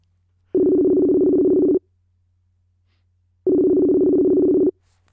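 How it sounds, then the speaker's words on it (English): A telephone rings with two long, even electronic tones separated by a pause, clean and close against a faint low hum. "Who the bloody hell does keep ringing me?"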